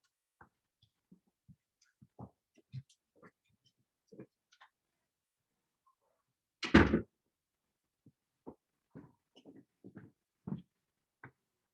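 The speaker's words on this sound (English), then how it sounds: "Let me close the door." A door is shut in a home with a single solid thump, sharp and close, standing alone amid faint scattered ticks and small handling noises in a quiet room.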